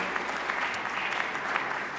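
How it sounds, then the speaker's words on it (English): Steady, dense audience applause at an energy and climate forum as award winners walk onto the stage, a continuous wash of many hands clapping without a break. "I would like to ask for one big round of applause as all the winners come onto the stage"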